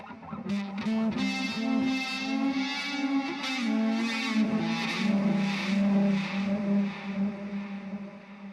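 Electric guitar through a RAT distortion pedal layered with other effects including delay and reverb, sustained fuzzy notes with repeating echoes that swell and wash together, loud and alone.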